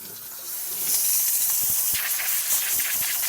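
Steam wand on a Zacconi espresso machine, after a full tune-up, gives a loud, continuous broadband hiss that swells after half a second and holds steady, alone without talk.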